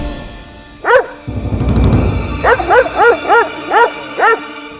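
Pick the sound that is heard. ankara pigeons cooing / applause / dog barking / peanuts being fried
dog barking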